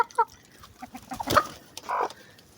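Chickens and a rooster in a village farmyard give short, close clucks and squawks, with a louder burst near the middle and a sustained call toward the end.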